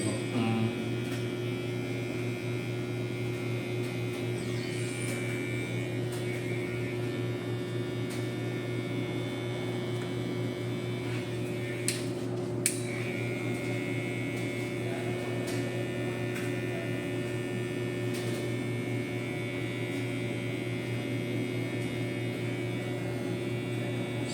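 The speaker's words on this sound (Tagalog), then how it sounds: "nag-aahit na po tayo" An electric shaver runs during a mushroom-style haircut, giving a steady, unbroken motor hum with a faint high buzz that holds evenly from start to finish.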